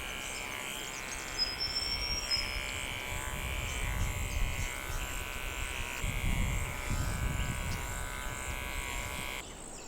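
Electric clippers buzz steadily and continuously while trimming a Toy Poodle's feet, a close, even hum that shifts slightly in pitch as the blade moves through the fur.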